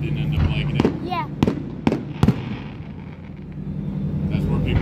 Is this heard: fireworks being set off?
yes